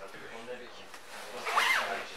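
A zipper drawn up the front of a lined jacket, a short raspy zip rising near the end, close and fairly quiet, with a person talking around it.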